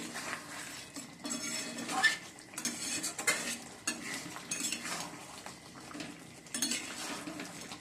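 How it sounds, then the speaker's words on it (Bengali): Chicken being stir-fried with fried potatoes in a pot, making repeated scraping and clinking of a metal spoon against the pan over a soft sizzle, near and steady, with no talking. "বন্ধুরা, চিকেনটা কষানো হচ্ছে, আলু দিয়ে দিয়েছি ভেজে"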